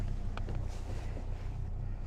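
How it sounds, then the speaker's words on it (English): A boat engine runs on Lake Kipawa in Quebec, a steady low motor drone heard close, partly masked by buffeting wind noise on the microphone. "All right, the engine's not going the right ways."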